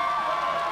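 Crowd noise at a high school boys basketball game between La Crosse Logan and Winona Senior High, a steady roar of cheering voices filling the gym for the whole short moment.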